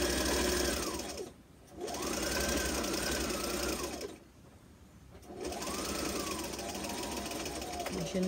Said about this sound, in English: Lift our presser foot, and we're gonna turn. I'm gonna continue sewing.